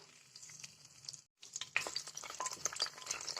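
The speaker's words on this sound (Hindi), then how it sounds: "तेज पत्ता अच्छे से फ्राई हो गया है, दालचीनी भी फ्राई हो गई है हल्की सी।" Cinnamon sticks and bay leaves fry in cooking oil left over from frying cashews, giving a close, steady sizzle with light stirring scrapes and one brief pause partway through.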